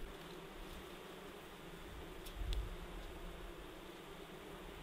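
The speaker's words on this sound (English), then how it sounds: "once I dump those bees, they're gonna be everywhere" Honey bees buzz during a spring hive installation in Alaska, a dense, steady, faint drone of many insects with a brief rustle midway.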